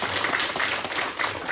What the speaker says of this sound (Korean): 그 감사의 마음을 담아 우리 앞에 박수를 한번 영광 드리면 좋겠습니다.